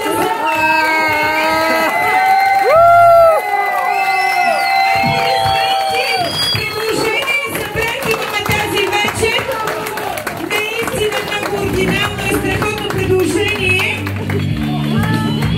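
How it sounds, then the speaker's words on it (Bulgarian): A crowd claps, cheers and whoops at a marriage proposal, loud and close, with excited voices and shouting mixed through the applause. "Аплодисменти! Аплодисменти!"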